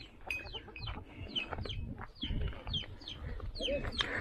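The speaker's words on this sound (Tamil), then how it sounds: "இங்கே பாருங்கள், ஏகப்பட்ட கோழி இருக்குது." Chickens cluck and squawk repeatedly in a busy flock nearby, steady chattering calls overlapping one another without pause, in a riverside fishing village at Kottaiyur near MM Hills on the Tamil Nadu–Karnataka border.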